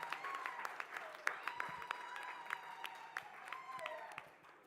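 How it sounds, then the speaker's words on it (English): Applause at an international conference for women birders, a light patter of scattered claps from the audience with some cheering, under a continuous tonal sound and faint voices, fading out toward the end. "So I want us to give him a rounding applause for incredibly promoting birds."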